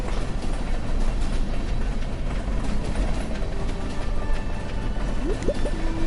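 A train in the Stardew Valley video game rolls past with a steady, loud rumble and dense rattling clatter that holds evenly throughout, with no talking.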